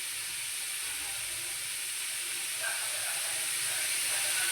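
Chopped onions, salted, fry in a pan as the base for Mumbai-style pav bhaji, giving a steady, even sizzle and hiss that runs unbroken throughout with no voices.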